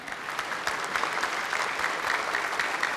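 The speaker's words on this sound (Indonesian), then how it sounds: "Boleh tepuk tangan yang meriah sekarang?" A studio audience at a 2019 Indonesian presidential debate breaks into steady, lively applause, a dense wash of clapping that holds evenly throughout.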